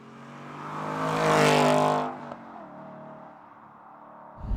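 An Aston Martin engine revs hard nearby, its tone climbing to a loud peak and then falling away to a lower idle, with a short blip at the end.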